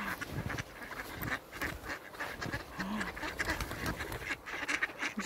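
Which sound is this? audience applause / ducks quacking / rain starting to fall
ducks quacking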